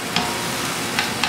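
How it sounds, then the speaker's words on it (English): Onions fry in a pan with a steady close sizzle, broken by a few short stirring scrapes. "And then just frying up some onions."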